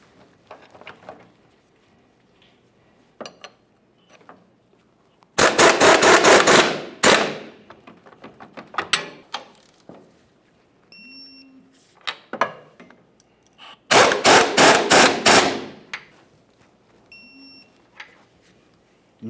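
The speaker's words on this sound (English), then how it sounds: "we can continue on snugging and torquing each one of these two bolts" Tool tightening and torquing the rear lower control arm bolts on a 2002-2009 Chevrolet Trailblazer: two loud bursts of rapid hammering impacts about eight seconds apart, with scattered metallic clinks, faint beeps and quiet handling noise between them, close up.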